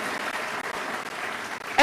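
Crowd applause for young people at a university congregation, a dense continuous patter of many hands clapping in a large hall, steady and fairly loud throughout the short stretch.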